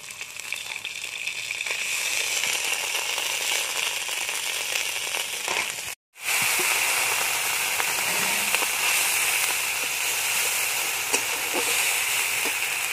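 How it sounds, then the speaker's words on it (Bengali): Spices and ginger paste fry in a pan with a loud, continuous hiss and crackle, broken once by a brief silent gap before the sizzling resumes at the same level. "এবার আমি মশলাটা কষিয়ে নেব।"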